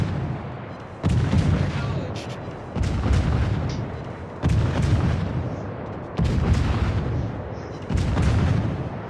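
Warship main batteries fire in World of Warships, five heavy, booming salvos at steady intervals of about two seconds, each a loud, close blast that rumbles and decays before the next.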